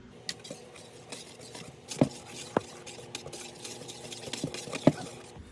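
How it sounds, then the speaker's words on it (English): A whisk clinks and taps against a bowl while stirring a dry cake mix of flour, baking powder, baking soda and salt for a chocolate mint cake, giving scattered sharp metallic ticks over soft rustling. "Now we are going to whisk this up and set it aside."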